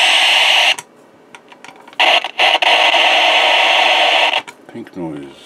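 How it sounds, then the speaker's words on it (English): Bursts of loud, harsh white noise hiss through a small quarter-watt amplifier, switching on and off with brief gaps, ending in a low rumbling crackle. "That's white noise."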